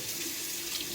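Steady running tap water splashes into a sink while washing kitchen utensils, a constant broadband rush with no voices.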